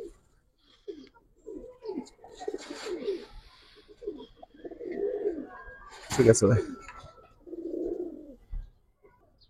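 Giribaz and colouring pigeons coo softly in low, rolling bursts while someone talks close by throughout.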